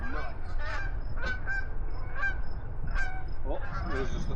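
A flock of geese honks repeatedly overhead as they fly over and come in to land, with loud, nasal calls overlapping in irregular bursts over steady outdoor wind noise.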